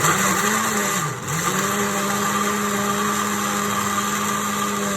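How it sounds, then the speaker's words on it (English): A steady motorized whir of a blender running continuously on homemade ice cream mixture, with a brief dip in pitch as the load shifts, then settling back to an even drone. "continue blending it"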